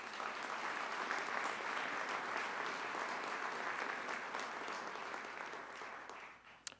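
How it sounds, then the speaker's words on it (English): A commencement ceremony crowd applauds in a dense, even roar of clapping that holds steady, then tapers off near the end with a final clap. "Let's give them a round of applause"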